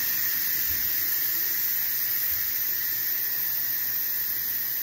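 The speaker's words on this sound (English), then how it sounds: "as soon as it's done releasing all the steam, we can open it" Steady, loud hiss of steam venting from a pressure cooker's release valve after cooking eggs, continuous and unchanging from start to finish with no voices.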